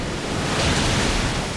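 A Muddy Water water attack striking its target in a Pokémon video game, heard as a loud, sustained rushing surge of water noise that swells slightly through the middle of the short burst, with no talking.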